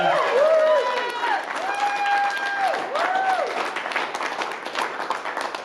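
A comedy show audience applauds the night's comedians, a dense wash of clapping with whooping, rising and falling cheers riding over it, loud and sustained throughout.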